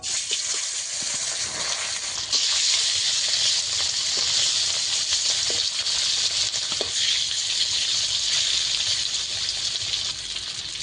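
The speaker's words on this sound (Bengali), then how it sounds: "তেলটা ভালোভাবে গরম হয়ে গেছে একে একে লবণ হলুদ মাখানো মাছ দিয়ে দেবো" Fish coated in salt and turmeric hiss and sizzle in hot oil, a loud, continuous, close frying roar that holds steady throughout, with no voice.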